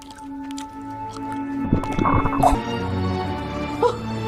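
A video game character eats noisily: wet, squishy smacking and slurping bursts, fairly close, over a faint steady musical drone.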